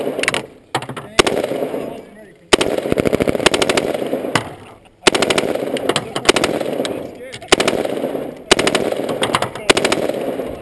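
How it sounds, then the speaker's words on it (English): Bursts of gunfire at targets on a range, single semi-automatic shots alternating with rapid full-auto strings, loud and close, with sharp repeated cracks separated by brief pauses and some voices in between. "semi, way back, semi, full auto. And we're shooting white targets for this."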